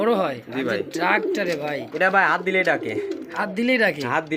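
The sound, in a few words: Bombay pigeons cooing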